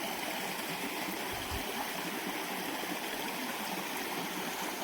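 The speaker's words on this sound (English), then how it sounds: "Here we are at a little stream that we got to cross." Steady rushing water from a mountain stream on Gooch Mountain along the Appalachian Trail fills the scene, a continuous broadband gush with no voices.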